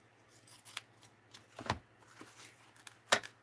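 Scissors snipping through tape: three or four short, crisp snips spaced apart, quiet and close, with faint background hum and no speech.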